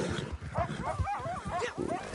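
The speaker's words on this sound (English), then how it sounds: "Coyote." A coyote in the Red Dead Online video game lets out a short burst of wavering, yipping howls, several quick rising and falling cries over about two seconds, with someone talking faintly underneath.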